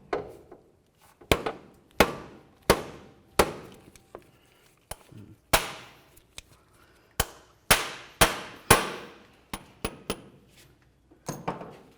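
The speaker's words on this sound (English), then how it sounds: "what works best is a nice rubber mallet on the very end." A rubber mallet strikes the end of a CV axle again and again to seat it into the manual transmission of a 2003-2008 Toyota Matrix, about twenty sharp, irregular knocks up close with short decays between them.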